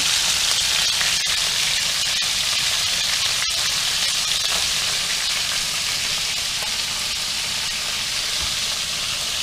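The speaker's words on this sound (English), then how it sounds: "Now I just want to let the other side sear a little bit more." Food sears in a hot pan, a steady, loud, continuous sizzle and hiss lasting throughout, with a few faint clicks and no talking.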